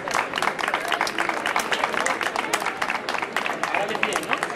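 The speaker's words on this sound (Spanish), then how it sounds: "Y un aplauso a nuestra amiga," A crowd at an evening cultural event with a book fair and poetry recital applauds the organiser, brisk dense clapping that stays strong throughout, with voices mixed faintly into it.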